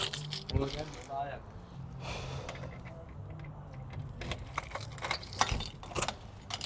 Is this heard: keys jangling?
yes